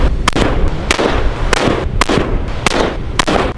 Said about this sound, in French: En fait, Thibaut, il doit tirer sur le bidon là